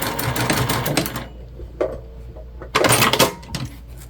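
A sewing machine stitches down a seam on a pencil pouch in a busy opening burst, falls to near quiet with a faint click, then whirs again in a second short run, close by.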